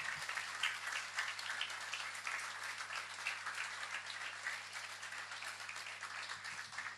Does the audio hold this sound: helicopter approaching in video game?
no